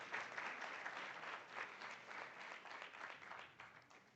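Applause fills a room at a university award presentation during an arbitration week event, a steady wash of many hands clapping at moderate distance, fairly quiet and continuous with no voices over it.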